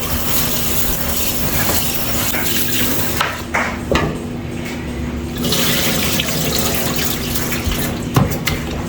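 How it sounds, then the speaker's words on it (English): Tap water runs steadily into a bowl as rice is rinsed for chicken pelau, a loud close splashing rush with brief swishes and clinks, no talking. "So let me get this rice a good wash out."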